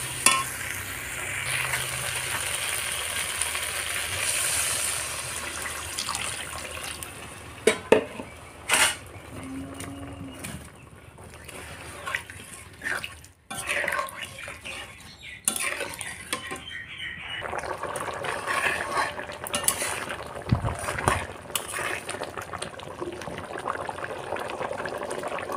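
Water goes into a pan of pointed gourd, potato and prawn that has been fried down. Uneven hissing and bubbling are broken by scattered clatters of a spoon against the pan, with quieter stretches between.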